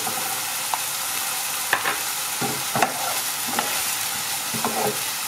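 Lasagne filling frying in a pan with sweet paprika just added, a steady sizzle running throughout with a few sharp clinks and scrapes of stirring spaced across it, close and moderately loud, no voices.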